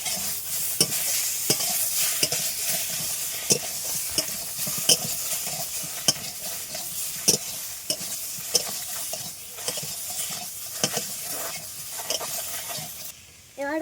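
Pieces of fresh rohu fish seasoned with salt and turmeric sizzle steadily in a pan while being stirred, the frying hiss constant and the spoon scraping and tapping at regular intervals throughout.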